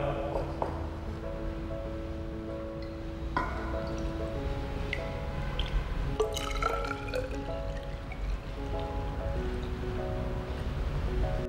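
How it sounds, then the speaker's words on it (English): Water pours into a 100 ml measuring cylinder, a continuous trickling and splashing with rising tonal plinks as the level climbs, moderately quiet and close with no talking. "We now fill this with water."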